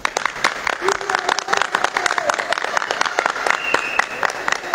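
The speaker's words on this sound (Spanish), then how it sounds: "vamos a despedir esta transmisión con un fuerte aplauso a Jesús del Rescate" Applause from a congregation honoring Jesús del Rescate at the close of a Viernes de Dolores broadcast: dense, steady clapping that runs the whole stretch at moderate loudness, with voices mixed in.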